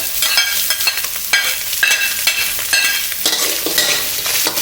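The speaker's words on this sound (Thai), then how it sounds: "เราก็จะใส่ พวกผักต่างๆลงไปพวกแครอทนะครับ" Carrots and mixed vegetables are stir-fried over scrambled egg for Chinese sausage fried rice, loud continuous sizzling with repeated scraping strokes of a spatula across the pan, close and without voices.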